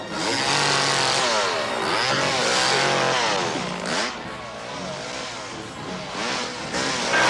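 A chainsaw in a horror film fight scene from Prophecy (1979) snarls loudly and continuously, its pitch wavering and revving up and down over several seconds amid the struggle.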